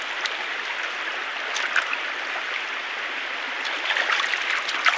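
A large river flows with a steady broadband rush of water. Close, even and continuous, with faint splashes coming through the noise and no voices.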